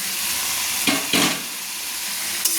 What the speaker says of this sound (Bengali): হেঁচারি রান্না করার জন্য সিটি দেওয়া হেঁচারিটা আমি তুলে দিলাম মশলার উপর